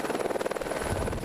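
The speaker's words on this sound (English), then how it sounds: "getting out of the helicopter is important because obviously these rotors are a lethal weapon" Helicopter rotors run close and loud at a heliski pickup in the snow, a fast, even thudding chop over a steady engine whine.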